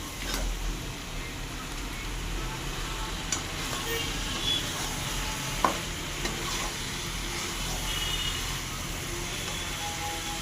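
Meat going into a pan of spices and ginger, sizzling with a constant dense frying hiss while it is stirred, with occasional scrapes and clicks of the utensil.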